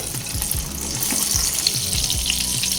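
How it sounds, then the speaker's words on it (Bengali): Cut eggplant fries in oil already used for potatoes, giving a close, dense sizzle with faint stirring scrapes and no talk. "এই একই তেলের মধ্যে আগে যে বেগুন কেটে ধুয়ে রেডি করে রেখেছিলাম সব দিয়ে দেব"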